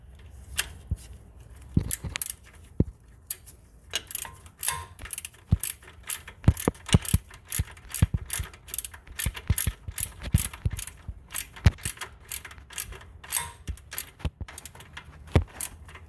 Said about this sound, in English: I'm going to tighten up the top and the bottom 14 millimeter bolts to hold it in place